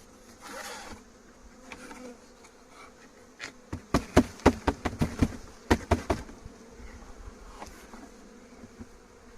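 Honeybee swarm being hived: a steady droning buzz of many bees, broken midway by a quick series of sharp knocks and taps.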